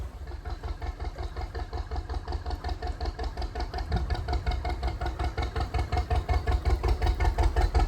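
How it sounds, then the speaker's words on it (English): A steady, rhythmic chugging of an old canal boat engine, loud and close, with regular low thumps continuing throughout and no voices. "Jolly old engine coming along."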